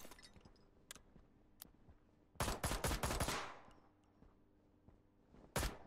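Gunfire in the video game Ride to Hell: Retribution: a few isolated shots, then a dense rapid burst of shots around the middle, and one last loud shot at the end, heard alone with no talk.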